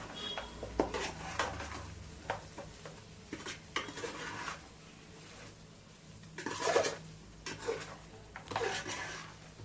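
Chicken fry with fresh coriander is being mixed in a pan, producing intermittent scraping and clinking of a utensil against metal in short bursts, moderately loud with quiet gaps between strokes.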